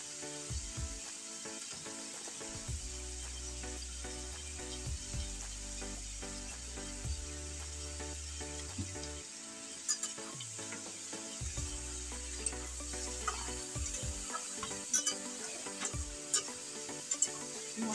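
Chicken frying with salt and turmeric in a pan, a continuous loud sizzle with repeated stirring scrapes throughout, no talking.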